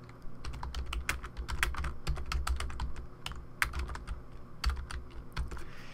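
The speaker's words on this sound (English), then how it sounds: "And let's type in our text." Rapid, steady keystrokes on a computer keyboard while typing text during Adobe Photoshop work, close and continuous with many overlapping clicks and no talking.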